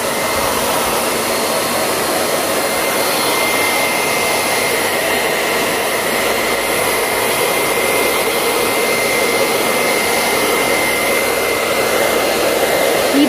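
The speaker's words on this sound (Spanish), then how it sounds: "lo voy a acelerar despacito con el secador" A hair dryer blows steadily on freshly applied crackle paint, a close, loud and continuous airy whir with a faint high whine that holds unchanged the whole time, with no talking.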